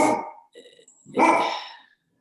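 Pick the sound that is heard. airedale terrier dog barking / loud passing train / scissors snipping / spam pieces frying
airedale terrier dog barking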